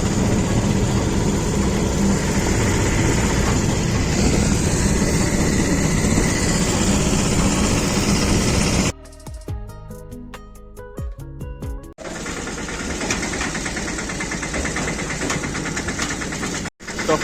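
A tractor engine running loud and steady on a national highway, a constant heavy rumble that drops out for a few seconds partway through before resuming.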